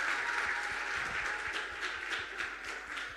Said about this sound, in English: A round of applause for them as they come up